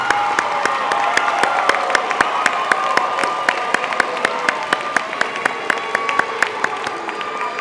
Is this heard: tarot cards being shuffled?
no